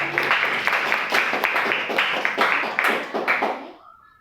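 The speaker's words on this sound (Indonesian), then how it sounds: "boleh tepuk tangan dulu" Applause from a classroom audience during a microteaching lesson, a dense burst of many hands clapping that stays steady for about three and a half seconds and then fades out.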